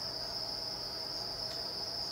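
Crickets raised indoors make a continuous, shrill chirring trill that holds steady at a moderate distance over a low background hiss. No voices.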